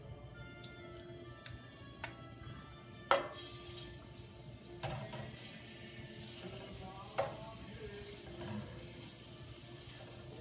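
Garlic sizzling in oil in a pan while cooking steak pizzaiola, a steady soft frying hiss with occasional clinks and taps of utensils, close and fairly quiet.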